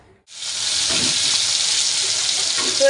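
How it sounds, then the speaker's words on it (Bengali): Fish frying in a pan at home gives a steady, loud sizzle that starts suddenly and holds as an even hiss, with faint bubbling underneath. "মা হচ্ছে মাছ ভাজা বসিয়ে দিয়েছে"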